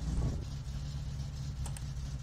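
Car engine in the video game My Summer Car, a low rumbling idle given a little gas, steady and moderately loud throughout.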